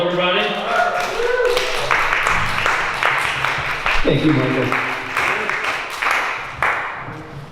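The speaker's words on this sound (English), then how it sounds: "So I think we should give him a warm round of applause" An audience applauds for a member of the LoveTones at a We Love Syracuse event, scattered clapping rising and tapering, with someone speaking over it.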